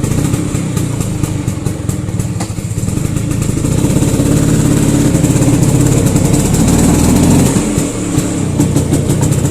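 Vespa Excel 2004 scooter engine running with the fuel tap left closed, a close, loud, uneven two-stroke putter that sputters and stumbles throughout with no talking over it.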